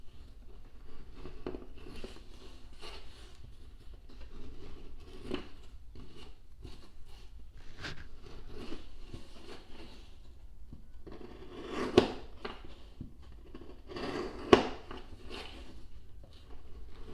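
Herman Oak full grain veg tan leather, 9-10 ounce, is cut with scissors or shears in a run of crisp snips and scrapes, close and fairly quiet, with two sharper snaps standing out near the end.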